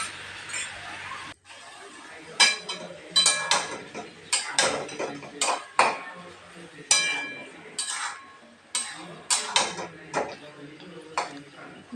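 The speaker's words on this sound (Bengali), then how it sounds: "সমস্ত সবজি সর্ষে বাটার সঙ্গে ভালো করে মিশিয়ে নিয়ে তার সঙ্গে ভালো করে কষাতে হবে।" A spoon works mixed vegetables and mustard paste in a pan, making a run of sharp clinks and scrapes in irregular bursts separated by short quiet gaps, close and fairly clear.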